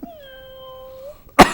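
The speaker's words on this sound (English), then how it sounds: "we've got a cat here today" A cat gives one long, clear, drawn-out meow nearby, its tone sliding slightly upward at the end, followed by a short noisy burst.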